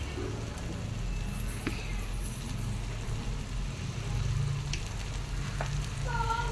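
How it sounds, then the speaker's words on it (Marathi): Masala frying in oil for Maharashtrian katachi amti, a steady sizzle with occasional sharp utensil clinks and scrapes from stirring, over a low constant background rumble, with no clear talk. "तेल सुटेपर्यंत आपण मसाला चांगला परतून घेऊयात"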